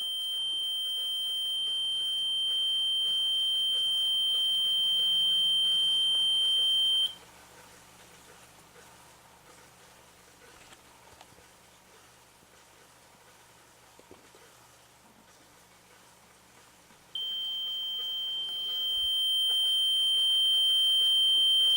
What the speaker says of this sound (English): Can you leave that beeping alone and just set the REM off only?